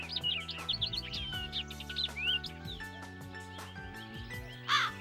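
A cartoon crow caws and chirps in quick, bright calls over a busy backdrop of light music, with a louder squawk near the end.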